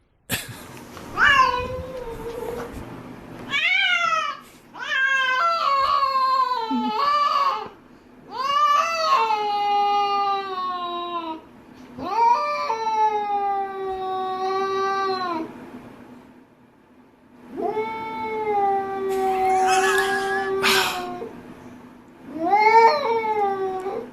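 Mating cats yowl and caterwaul in a long run of drawn-out, wavering wails broken by short pauses, close and fairly loud with no talking.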